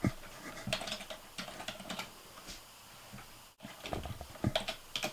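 Computer keyboard being typed on at a PC, a close run of clicky keystrokes in uneven bursts with a brief pause in the middle, no talking.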